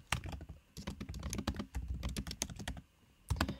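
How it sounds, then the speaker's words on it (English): Quick, uneven bursts of typing on a computer keyboard, close and fairly quiet, with short pauses between runs of keystrokes and a final flurry at the end. "and I'm going to type."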